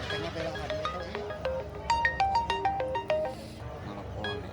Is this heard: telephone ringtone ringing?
yes